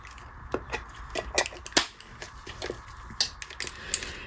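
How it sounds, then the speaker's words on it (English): Tape being wrapped around a pair of stacked guitar inductor coils held by a center screw, forming a mid-range choke for a Stratocaster: close, irregular crackly rips and sharp ticks in quick bursts. "so I'm going to tape these together"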